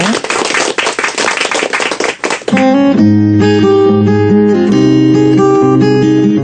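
A church congregation claps together in a dense, loud burst of applause for about two and a half seconds, then the clapping stops abruptly and gentle sustained music takes over.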